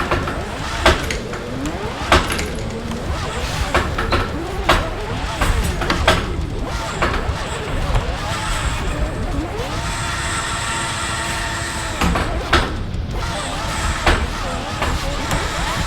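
Lamborghini Centenario fitted with a Formula 1 engine in Assetto Corsa, screaming loudly with fast revs, sharp shifts and rising and falling pitch while drifting, continuous throughout under occasional talk.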